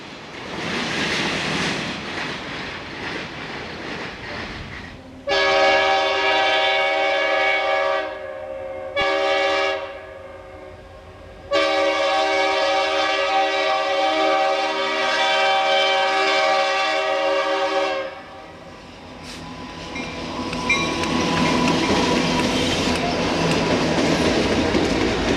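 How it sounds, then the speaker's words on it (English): A northbound Soo Line general freight grain train passes with long, loud horn blasts broken by short gaps, then fades into the rumble and clatter of rolling cars close by. "That was a northbound Soo Line general freight grain train heading for"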